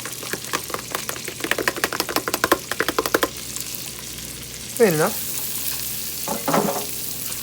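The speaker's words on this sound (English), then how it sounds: "So now there's onions, garlic, and parsley. It's gonna go in. You're gonna hear the sizzle." Rapid crackling sizzle of onions, garlic and parsley in a hot pan, with bursts of stirring clatter, followed by a short spoken remark and a faint background hum.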